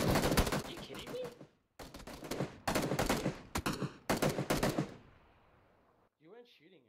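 Gunfire rings out in a shooter video game in four loud, rapid bursts separated by short gaps. The shooting then trails off into quiet, and a few faint chirps follow at the end.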